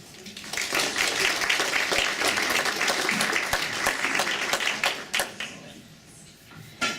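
An audience at an IBD youth evening event applauds to welcome speaker Josee Beauchamp, steady dense clapping that fills the room for several seconds before thinning out, with a final burst near the end.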